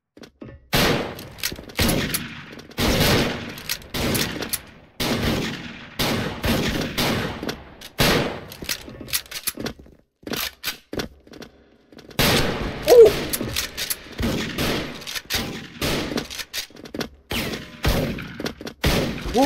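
Musket gunfire in the Origin video game: loud, sharp shots fired repeatedly in irregular bursts with short gaps between them, each crack ending abruptly.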